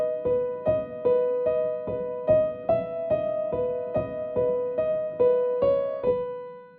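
Piano plays a simple melody in an easy arrangement, about a dozen evenly spaced single notes repeating around a narrow range, clear and close with no voice, the last note ringing out.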